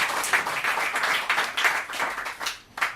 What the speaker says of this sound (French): Je vous demande d'applaudir Benoît Gremard